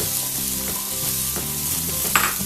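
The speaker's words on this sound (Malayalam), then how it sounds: "ഇനി ചേർക്കാൻ പോകുന്നത് ടൊമാറ്റോ ആണ് ഇത് ഒരു മീഡിയം സൈസ് ടൊമാറ്റോ ചെറുതായിട്ട് അരിഞ്ഞതാണ്" Chopped medium tomato added to spices frying in a pan for a soya chunks dish, with a continuous crackling sizzle and a few stirring scrapes close by.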